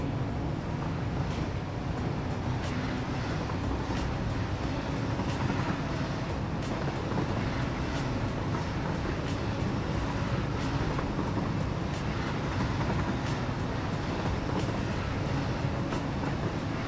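A train in a video game rumbles in a steady, heavy low drone with faint rhythmic clicks, continuous and loud throughout, with no voices.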